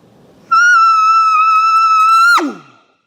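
A human voice imitates an elk cow call without a tube at an elk calling seminar. It makes one long, steady, high, nasal mew held for about two seconds, then drops off sharply at the end, loud and close.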